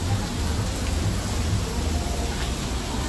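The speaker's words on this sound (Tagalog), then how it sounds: "Tapos malamig kasi yung ulan, no?" Steady rain pours down outside near an onboard jacuzzi on a cruise ship, a dense, loud hiss of drops that keeps up without a break. No one speaks.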